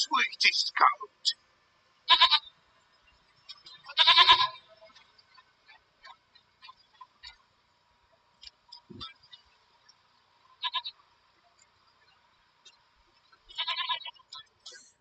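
A goat in The Witcher 3 bleats in several separate calls spread out over time, mid-distance, mixed with sparse ambient game sounds and no speech.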